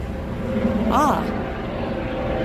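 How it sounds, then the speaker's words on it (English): A helicopter flying overhead makes a steady, broad engine and rotor drone that holds throughout, fairly close and loud, with a brief voice-like sound rising over it partway through. "Helicopter."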